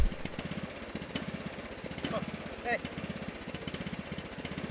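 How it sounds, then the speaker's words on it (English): A sit-on lawn mower's engine chugs in a steady, rapid rhythm while mowing, running close and continuously for several seconds with small surges in loudness. "today he'd asked if I'd mind doing a bit of mowing. Of course that involves a sit on mower"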